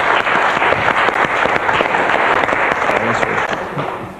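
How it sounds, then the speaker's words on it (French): Studio audience applauding on a French TV numbers-and-letters game show, a steady dense wash of clapping that holds loud throughout with scattered sharper hand claps. "Applaudissements pour Jonathan qui a trouvé ce bon compte."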